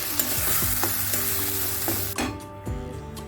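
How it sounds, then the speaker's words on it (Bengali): A spice mixture is stirred and dry-fried in a kadai, with a spatula repeatedly scraping and knocking the pan over a strong sizzle that drops away sharply near the end. "এটা ভালো করে মিক্স করে শুকনো শুকনো করে নিতে হবে।"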